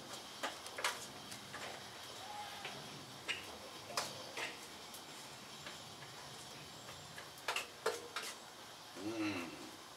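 Potatoes, steak and peppers are stirred in a pan, a spoon tapping and scraping against the pan in sparse, sharp clicks over a faint sizzle, quiet and near.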